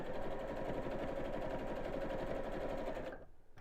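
A sewing machine stitches a fabric roll-up purse organiser, giving a steady close whirring hum with rapid regular needle pulses that stops abruptly near the end.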